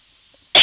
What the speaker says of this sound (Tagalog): Pagpasensyahan nyo na yung ubo ko.